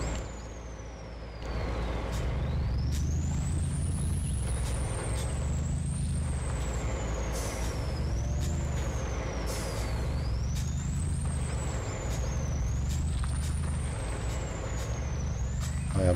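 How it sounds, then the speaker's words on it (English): Truck air brakes hissing in a driving game, a broad steady hiss over a low engine rumble with a rising and falling whine, continuous and fairly loud. "I am challenging these here brakes."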